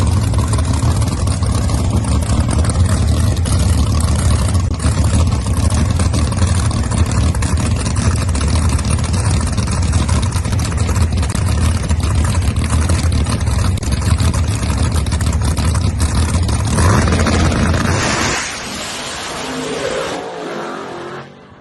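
Small tire drag race cars at Mid America Dragway roar loudly and steadily for most of the run, a sustained engine drone that cuts off near the end and fades to quieter rumble.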